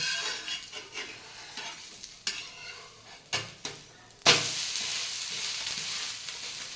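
Dosa frying in ghee on a hot pan, a steady soft sizzle with scraping and spatula taps, a sharper crackle rising near the end as more ghee hits the pan; no talking.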